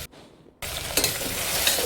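A paste of onion, peas and sweet corn hits a hot pan after a brief quiet moment, then cooks with a loud, continuous close-up sizzle and hiss.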